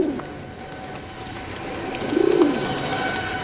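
Racing pigeons coo softly amid a steady background hum, with one low, throaty coo standing out near the end.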